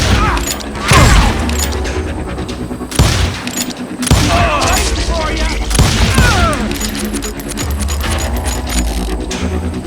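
Gunfire in the Western shooter Call of Juarez: Gunslinger, loud irregular pistol and rifle shots cracking in bursts amid clattering gun mechanisms and a dense battle soundscape.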